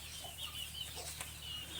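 Pet roosters and hens in a backyard rooster room, with scattered faint clucks and brief calls over a steady low hum and background noise, no clear crowing.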